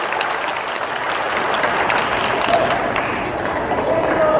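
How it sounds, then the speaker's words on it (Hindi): An audience at a birth anniversary celebration for Emperor Ashoka in Patna bursts into loud, dense applause that holds steady for several seconds. A few scattered shouts rise over the clapping. "तो जोरदार ताली सबकी तरफ से होनी चाहिए"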